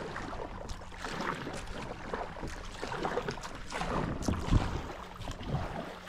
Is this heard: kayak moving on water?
yes